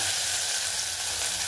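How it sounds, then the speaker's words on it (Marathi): Ivy gourd (tondli) sautéing with cumin and spices in a pan over a very low flame, giving a steady, even sizzle that holds constant throughout with no talking. "इथं मी तोंडली ॲड केली आहे आणि ती परतून घेते."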